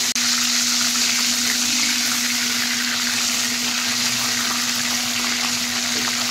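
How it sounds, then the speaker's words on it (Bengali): Lote (Bombay duck) fish pieces fry in hot oil, giving a steady, loud, continuous sizzle with a constant background hum and no talking. "দেখুন এইগুলো প্রায় ভাজা হয়ে গেছে"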